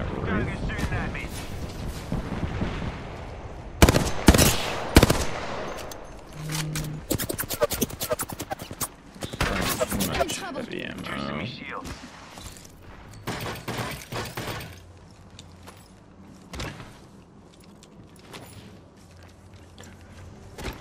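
Bursts of rapid gunfire and explosive booms in an Apex Legends ranked match, dense volleys in clusters with quieter gaps, while players talk over the action.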